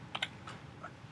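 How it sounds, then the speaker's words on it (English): A few light, separate keystrokes on a computer keyboard while a SketchUp animation command is entered, quiet and close, with no speech. "we do that first by typing in the word animate"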